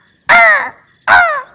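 A crow caws twice, each a harsh, loud, close call about a second apart, with quiet between them.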